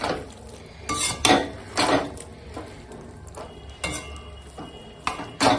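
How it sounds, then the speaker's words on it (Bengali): Catla fish head curry being stirred in a pot, the fish heads pushed down into the gravy, with a few loud scraping and clattering strikes of the utensil against the pot spaced irregularly over a low simmering background. "এখন দেখো তরকারিটা একটু ঘেঁটে দেবো"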